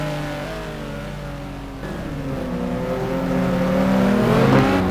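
Lamborghini race car engine in a sim racing game at Spa, droning steadily and then rising in pitch and loudness as it accelerates, heard close and alone without talk.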